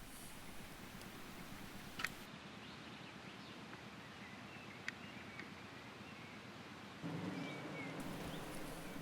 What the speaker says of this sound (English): thundery rain had set in